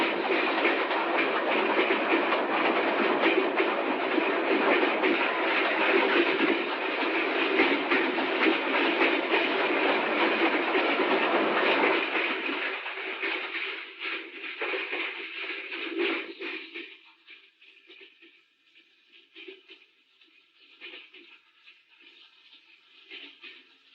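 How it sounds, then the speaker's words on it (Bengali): A mail train runs past in a loud, continuous rattling rumble that holds steady, then drops away abruptly, leaving quieter intermittent clacks and rumbles. "Mail train."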